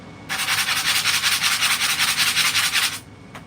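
Sandpaper rubs by hand across a wooden floor beside a kitchen toe kick in a converted bus, rapid back-and-forth strokes loud and close for about three seconds before stopping.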